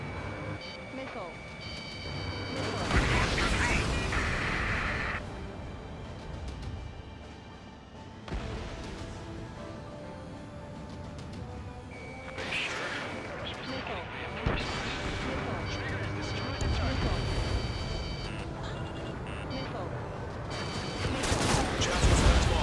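Missile launches and explosions from the Ace Combat 7 video game, with heavy booming blasts and crackling fire layered over continuous engine roar and radio chatter throughout.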